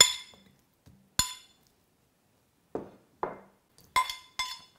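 Ingredients with three garlic cloves being mixed in a glass bowl for beef bourguignon, heard as a handful of sharp clinks and taps of a utensil against glass, spaced irregularly, with quiet scraping between them and no talking.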